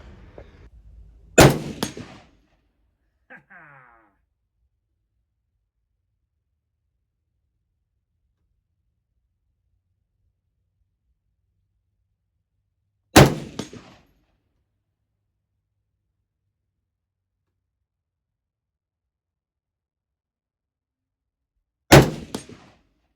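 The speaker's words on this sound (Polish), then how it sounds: "I na koniec jeszcze do gongów strzelimy." Stgw 57 (SIG 510) rifle shots fired at steel gongs on an outdoor range, three sharp, loud reports spaced roughly ten seconds apart, each with a brief metallic ring, separated by near silence.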